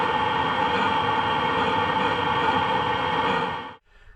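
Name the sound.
van heater running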